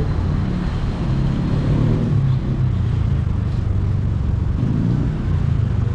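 Continuous traffic rumble from cars driving along Magallanes Drive near Jones Bridge in Manila, a loud, steady low roar of passing vehicles with some wind buffeting and no clear gaps.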